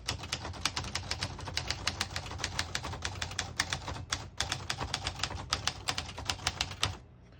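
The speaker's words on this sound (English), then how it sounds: "So I'm going to type a sentence on this next line." Rapid, uneven clacking of a 1956 Smith-Corona Skyriter manual typewriter's keys, struck one after another in quick bursts for several seconds, then stopping abruptly near the end.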